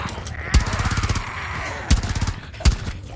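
Gunfire rattles in the video game Rainbow Six Siege: loud, close automatic bursts of rapid shots, broken by three heavier single booms.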